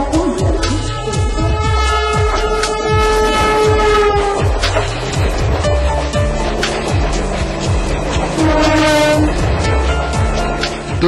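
A train rumbles along the rails, loud and close, with rhythmic wheel clatter over joints, steady rolling noise and a horn blast partway through, no talk over it.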